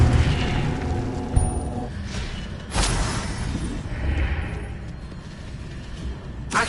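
A Confringo blast spell cast in a Hogwarts video game: a muffled boom and burst that whooshes out over a low rumbling game backdrop, with a second impact swelling a moment later.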